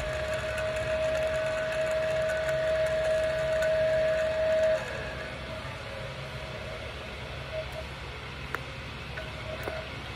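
Rotork CML electric valve actuator motor running, a steady high whine over a low mechanical hum that holds for several seconds and then stops, leaving quieter background noise with a few small clicks.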